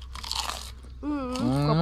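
Crunchy bites of food during a Thai meal of spicy papaya salad with large snails and small grilled chicken and fish, a couple of close, loud crackling crunches followed by a voice speaking over the chewing.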